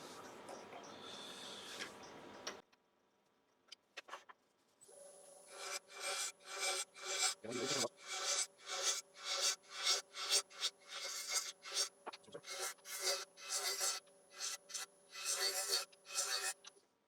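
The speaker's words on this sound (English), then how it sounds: "I'll just give it a quick sand up to 240 grit." A wooden bowl turned from a scrap log is sanded by hand with 240 grit sandpaper, giving a steady run of close, rhythmic rasping strokes after a brief noisy start and a short pause.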